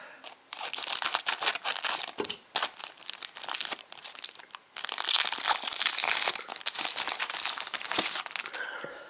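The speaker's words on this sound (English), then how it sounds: "we also get 3 packets of cards, so let's open them up" Crinkly foil packets of Frozen photo cards being torn open and crumpled, close and loud, with continuous crackling and tearing broken by a few short pauses.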